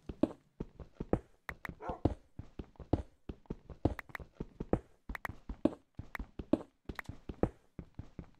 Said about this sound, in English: Why do you bark so much?